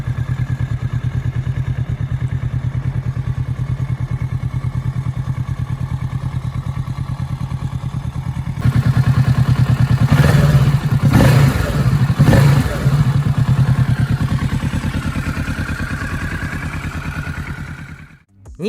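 A 2017-generation Kawasaki Ninja 650 sport motorcycle engine runs steadily, then rises into louder revving bursts partway through before cutting off abruptly at the end.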